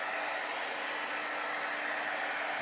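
An embossing heat gun drying chalk paste on a transfer for a farmhouse laundry sign blows a steady, close, even rushing whoosh like a hair dryer, with no pauses for the whole stretch.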